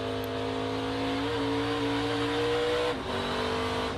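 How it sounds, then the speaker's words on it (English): NASCAR Truck Series race truck at the Circuit of the Americas road course, engine throttle held steady in a loud, continuous drone with a brief dip and recovery, no talk. "I think it's really fun to listen to the throttle too, Kevin, just squeezing it."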